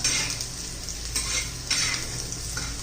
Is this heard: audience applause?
no